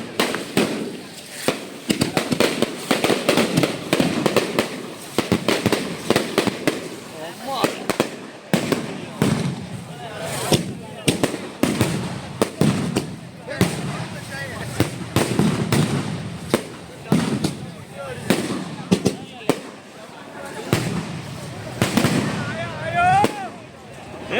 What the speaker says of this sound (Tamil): ஒன்று போய் ஒன்றா அப்படியே வந்துக்கிட்டே வெடிச்சுக்கிட்டே இருக்கும் கண்டினியூஸாக பாருங்கள்